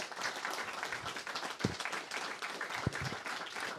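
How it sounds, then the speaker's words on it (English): Faint, distant audience applause after a talk at a startup event in Vienna continues steadily for a few seconds, with a couple of louder thumps. "Give him a big round of applause."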